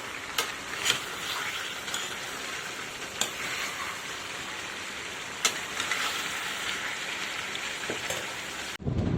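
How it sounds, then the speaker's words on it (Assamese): Steady crackling sizzle of meat and pumpkin frying in a pan, with occasional sharper pops and clicks, close by and with no talking. "এতিয়া এইখিনি ধুনীয়াকৈ ভাজি থাকিব লাগিব একদম ক'লা নোহোৱালৈকে"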